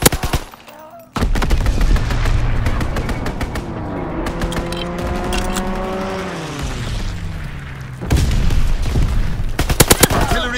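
Sustained strafing gunfire in the Call of Duty WW2 video game, with a rapid barrage of shots and engine drone from an aircraft pass, loud and close, over game ambience.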